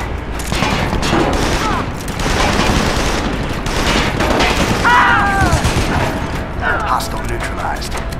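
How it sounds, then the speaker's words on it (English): Dense, sustained machine gun fire and other gunfire fill a SOCOM 4 combat scene, loud and continuous, with shouted radio voices cutting in over the shooting. "They're deploying machine guns, sir."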